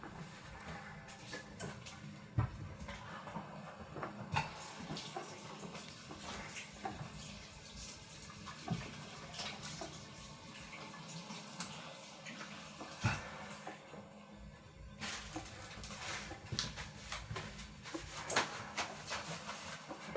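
Washing up at a kitchen sink after preparing pineapple salmon skewers: a continuous low rush of running tap water with scattered clinks and knocks of handled items, fairly faint and steady for about twenty seconds, no talking.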